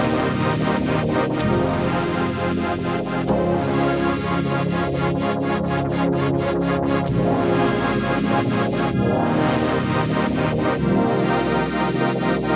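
Synthesizer preset Burning Light from The Prince VST plays a dense, continuous musical passage with a steady bass and rhythmic pulsing layers throughout, evenly loud with no talking.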